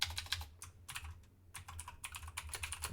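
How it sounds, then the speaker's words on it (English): A loud computer keyboard clatters in quick bursts of typing, with brief pauses between runs of sharp, close key clicks. "I need to type some things with my loud keyboard"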